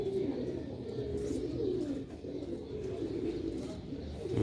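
Pigeons coo continuously nearby in soft, low, overlapping murmurs, steady and unbroken.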